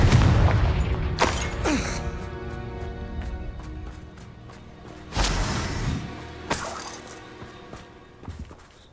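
Explosive Confringo blasting spells in Hogwarts Legacy, several sharp booming bursts spaced a few seconds apart, each with a crackling ring-out over a low ambient bed.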